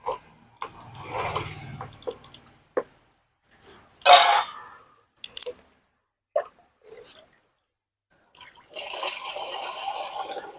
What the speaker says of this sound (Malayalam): ഇനി ഇതിനെ നമുക്ക് സ്പ്രെയറിലോട്ട് ഒഴിക്കാം.